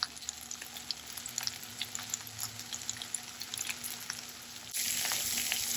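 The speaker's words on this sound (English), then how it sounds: "I give it a good stir until the spinach is wilted and the tomatoes are breaking down a bit." Spinach and tomatoes sizzle and crackle in a hot frying pan as they are stirred, a steady close hiss dotted with small pops that grows louder near the end.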